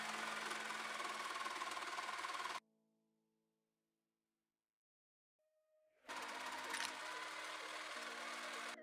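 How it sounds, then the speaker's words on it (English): A jigsaw clamped upside down in a jig cuts wood with a loud, steady buzzing whine that stops abruptly, leaving a few seconds of near silence before the saw starts up again. "This is the miter box that you saw before, clamped down in a vise with a jigsaw clamped upside down."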